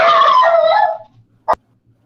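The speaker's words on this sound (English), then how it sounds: "The dog agrees." Dog giving a drawn-out howling bark lasting about a second, loud and close, followed by a short sharp click and quiet.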